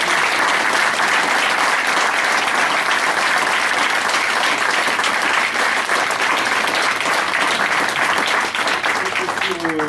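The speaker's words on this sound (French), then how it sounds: "sous vos applaudissements" A crowd at a judo belt ceremony applauds steadily for the full length, dense sustained clapping close by, with voices mixed in beneath it.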